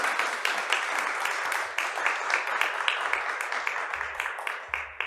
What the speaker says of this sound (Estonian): Suur tänu Taavile, teeme talle aplausi.